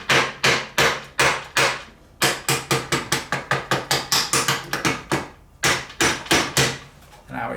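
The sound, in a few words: tapping a 30mm socket into bicycle bottom bracket with soft blow mallet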